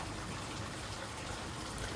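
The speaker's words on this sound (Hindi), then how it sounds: "देखिए आप सामने मुझे झरना दिख गया।" A waterfall pours inside a cave during the rainy season, a steady, dense rushing of water that stays constant and fairly close, with no talk over it.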